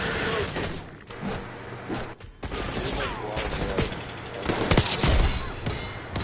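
Rapid automatic gunfire bursts and single shots crackle loudly in Call of Duty: Black Ops 6 multiplayer, dense and repeated across the whole stretch with mechanical clatter between volleys.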